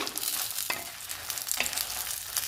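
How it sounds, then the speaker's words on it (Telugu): Dry red chillies frying in a pan for coconut chutney hiss and crackle steadily up close, with a few stirring scrapes and no talking. "మాడిపోకుండా వేయించుకోవాలండి అప్పుడే టేస్టీగా ఉంటుంది కొబ్బరి పచ్చడి"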